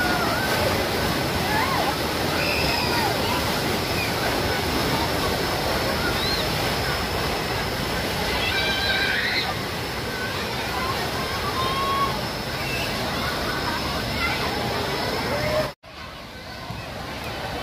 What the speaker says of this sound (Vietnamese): sóng nước này trời ơi đã